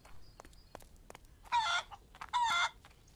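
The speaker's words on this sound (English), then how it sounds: "No, chicken." A chicken in a barn gives two loud, harsh squawking clucks in quick succession, each lasting about a second, with faint clicks and rustling between them.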